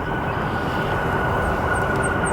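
An airplane landing at O'Hare International Airport, heard as a loud steady roar of engine and rushing air, constant and close with no pauses.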